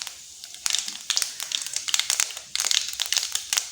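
Mustard seeds and fennel seeds spluttering and popping in hot oil while tempering for a tomato kulambu, a dense crackle of rapid sizzling pops in irregular bursts, close and fairly loud, with no talk.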